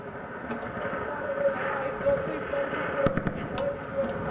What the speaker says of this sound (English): Still hear gunfire, but it's nowhere near us.